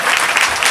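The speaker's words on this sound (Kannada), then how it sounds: "ಚಪ್ಪಾಳೆ ದೇವರ ಮಹಿಮೆಗಾಗಿ" Congregation at a Sunday church service bursts into applause, a dense, steady patter of many clapping hands that fills the whole brief moment at close range.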